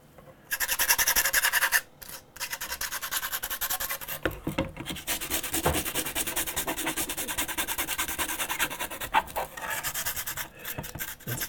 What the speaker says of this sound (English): See how dirty this gets from just using the sandpaper.